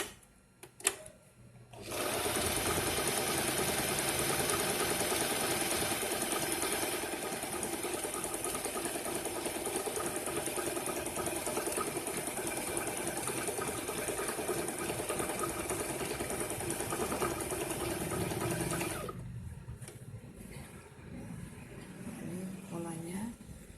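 Butterfly JH 5832A electric sewing machine stitching, a fast continuous mechanical whir and rattle running for about seventeen seconds before stopping abruptly, close and steady, with a person speaking before and after.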